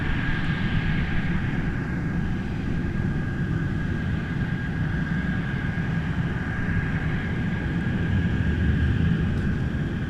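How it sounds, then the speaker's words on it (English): A UPS Boeing 747 at Anchorage Ted Stevens International Airport, Alaska, gives a steady distant jet engine roar with a sustained whine, continuous and even for the whole stretch, with no talking. "Let's go for that UPS 747."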